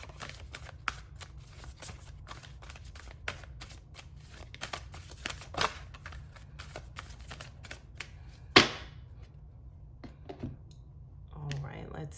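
Tarot cards riffled and shuffled by hand, a steady run of close, crisp flutters and snaps with a sharper slap near the end, and no talk over them.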